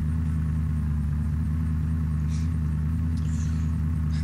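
A vehicle engine in the game Unturned drones as a steady, loud, low rumble while it drives, holding constant throughout with no talk.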